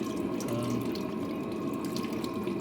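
Motor oil drains from an engine's oil pan into a catch container during a gauge install on a 600, a steady liquid trickle and splash continuing without break.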